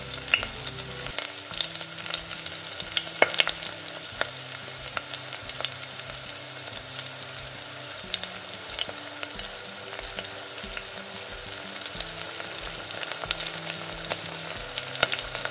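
Green chili paste sautéing in oil with spattering mustard seeds, asafoetida and turmeric for vada pav filling, a steady close sizzle with crackling pops and a low repeating hum beneath, no voices.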